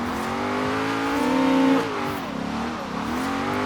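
A Koenigsegg Regera in Forza Horizon 3 on wet roads, its engine droning steadily and climbing in pitch as it accelerates, loud and close, with a brief higher surge midway before settling back.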